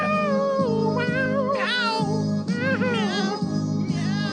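A person imitates a cat's meowing in a run of drawn-out, wavering yowls, loud and close, over a steady low hum of background music or noise.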